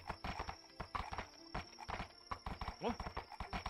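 Horse hooves clip-clopping in a video game, a rapid, irregular run of hoof strikes with a brief whinny near the end, faint and mixed under people talking.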